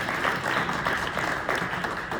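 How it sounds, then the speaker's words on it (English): Steady audience applause fills a political rally for a York County commissioner and a slate of candidates, dense continuous clapping throughout, loud and close, with no speech over it. "let's give them another round of applause"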